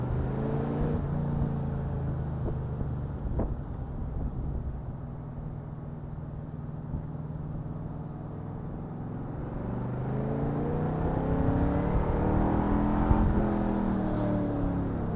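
An AK Cobra V8 sports car engine drones steadily with a low, throaty hum, its pitch rising and falling as it accelerates and revs, ending slightly louder.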